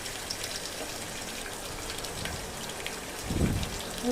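Garlic, mustard seeds and cumin sizzle in hot oil, a faint continuous crackle with a brief louder burst near the end.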